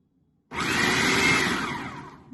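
A food processor pulses nuts for cookie dough, starting abruptly after a short quiet and running as one loud, steady whirring burst close by with no talk.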